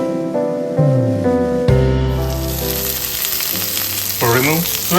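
Butter melting and sizzling over grilled tiger prawns, a steady frying hiss that rises partway through and sits beneath prominent background music.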